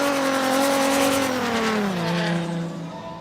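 A drift car runs at Okayama International Circuit during a professional drift competition. Its engine note holds steady, then drops in pitch and fades as the car moves away.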